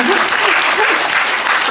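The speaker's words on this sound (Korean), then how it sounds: "박수 부탁드립니다" Audience applause in the Yongsan CGV theatre 1 at a film screening talk, a steady dense clatter of many hands at a loud, even level, with a voice of someone speaking faintly over it.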